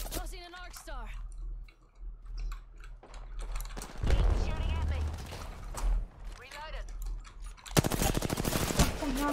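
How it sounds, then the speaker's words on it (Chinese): Gunfire in a shooting video game, rapid bursts of automatic fire and single shots mixed with clicking, heard under excited players' talk throughout. "我开枪了，对不起。"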